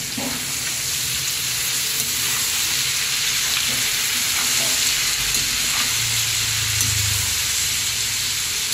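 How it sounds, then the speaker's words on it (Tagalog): Pancit noodles and ingredients sizzle and fry in a pan while being stirred, a steady loud hiss with occasional scraping and clinking of the utensil, continuous and close with no talking. "Haluin ko lang siya dyan."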